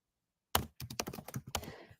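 Keys on a computer keyboard are typed close up in a short burst of about eight crisp clicks and thunks, irregular in rhythm, with no talking.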